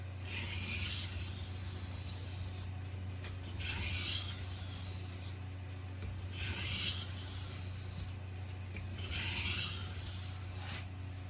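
A knife being sharpened on a whetstone, four slow, even strokes of hissing, scraping friction separated by brief pauses, close and steady against a low background hum.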